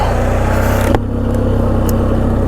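A 1996 Polaris Sportsman 500 ATV in two-wheel high range runs close by, its engine droning steadily with a rhythmic pulsing note and a brief surge as it pulls away, no talking.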